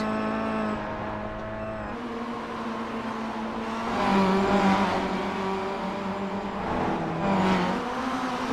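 Race cars in the iRacing sim at the AIMC Malaysia Championship roar steadily along a track, engines droning with whining harmonics and swelling revs as cars push hard through a fast section, continuous and fairly close.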